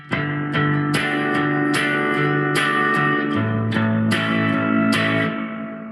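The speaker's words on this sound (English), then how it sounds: "Almost robotic. Like there's that kind of robotic noise, like on a phone call." An electric guitar played through an Oceans 11 effects pedal gives a distorted, robotic, phone-like tone, with a series of plucked notes and chords ringing out one after another, loud and alone.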